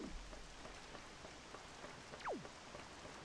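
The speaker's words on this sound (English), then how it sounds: "Climbing this ladder in the rain, it'd be so slippery." Steady rain patters across the whole stretch in Zelda: The Wind Waker, a dense even hiss with a brief whooshing sweep near the end and no voices.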